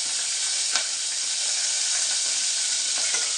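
Peanuts hit hot oil for wheat rava upma and crackle in a bright, continuous sizzle close by, with a few small pops and stirring scrapes.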